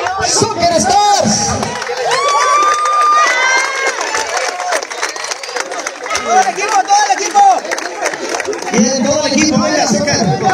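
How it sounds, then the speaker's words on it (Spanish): At the awards ceremony of a women's night soccer tournament, a crowd applauds and cheers for the fourth-place team: loud, lively clapping and shouts mixed with excited chatter and whoops throughout. "vamos a darle un fuerte aplauso al equipo"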